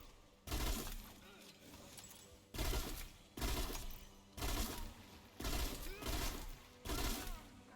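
Bursts of rapid automatic gunfire from a weapon in a video game, four or five volleys of a second or so separated by short pauses, loud and close.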